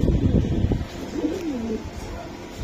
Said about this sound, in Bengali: দর্শক এই যে দেখেন কবুতর গুলা